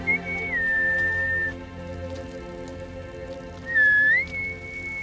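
Two clear whistled notes, a sliding tone held then dropping, followed after a pause by a rising answer, over soft dripping and light background ambience.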